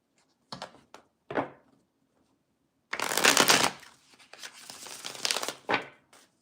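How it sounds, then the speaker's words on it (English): Tarot cards are shuffled close by: a few short riffles, then a longer, louder run of rapid flapping shuffles with brief pauses. "I do shuffle 3 times before I get the clarification"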